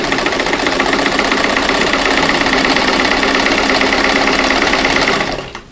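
Belt-driven motor of a sewing machine running steadily at speed, a loud, even mechanical whir with rapid stitching rhythm that winds down at the end.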